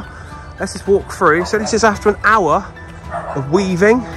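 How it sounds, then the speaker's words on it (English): Dogs yip and bark intermittently in a garden, partly under a person speaking close to the microphone. "excuse the dogs barking"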